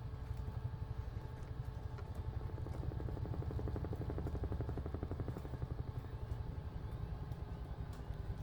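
Helicopter in Microsoft Flight Simulator descends in an autorotation to a firm landing in a paddock, with a faint steady rotor chop and engine drone throughout.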